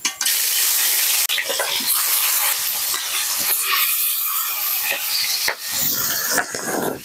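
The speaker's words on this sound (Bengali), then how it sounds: "মাছগুলো ভেজে নেবো।" Fish frying in hot mustard oil in a wok over a village clay stove, a loud continuous hiss and crackle with sharp spattering pops and no talk over it.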